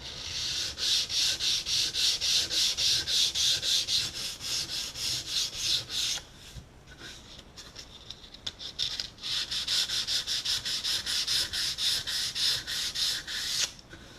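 Hand sanding of wood veneer with 400 grit sandpaper, light back-and-forth rubbing strokes in a steady rhythm, close and clear, pausing briefly midway before resuming, no voices.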